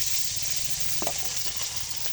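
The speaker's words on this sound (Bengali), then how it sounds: "তো আমি মাছগুলো দিয়ে দিচ্ছি কড়াইতে।" China hilsa fish frying in a kadai, giving a steady close, loud sizzle throughout, with a brief clatter of utensil or fish about halfway through.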